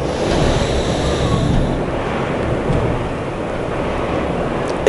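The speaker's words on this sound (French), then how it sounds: "Le vent souffle terriblement là où je suis." Strong wind roars steadily outdoors, a loud broadband rushing with gusty swells and buffeting against the microphone, continuous throughout with no voices.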